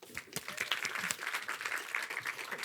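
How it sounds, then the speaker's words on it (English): An afternoon conference audience claps to welcome a speaker onto the stage, a lively burst of applause from a modest crowd that carries on steadily throughout. "So I'd really appreciate your applause in welcome Oyin to the stage this afternoon"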